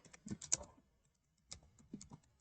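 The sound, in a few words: typing boilerplate HTML code on a computer keyboard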